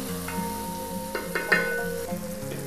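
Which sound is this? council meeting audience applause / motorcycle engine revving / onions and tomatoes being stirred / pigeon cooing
onions and tomatoes being stirred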